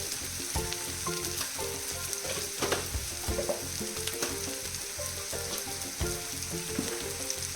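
Channa masala spices frying in a pan while being stirred, a steady loud sizzle with scraping stir strokes and occasional clinks of the spoon, no voices.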